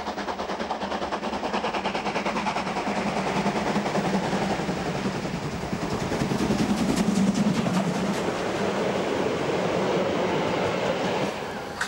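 A steam locomotive rolls steadily past at close range, its wheels clattering in a fast rhythmic chuff over a constant loud mechanical roar.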